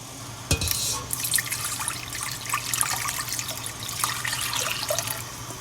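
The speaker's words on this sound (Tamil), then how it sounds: "இந்த தண்ணியை நாங்கள் இந்த பட்டை வகையோடு சேர்த்துக்கொள்ளுவோம்" Water pours and splashes into a cooking pot with spices for mutton biryani after a sharp clunk near the start, a bright trickling stream that continues unevenly.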